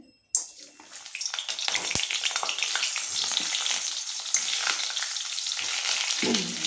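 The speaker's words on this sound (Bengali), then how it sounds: "আলুগুলো দিয়ে ভেজে নিচ্ছি।" Boiled potatoes frying in hot oil in a wok, a steady loud sizzle that bursts in as they drop in and continues dense and crackling, with scraping stirs now and then.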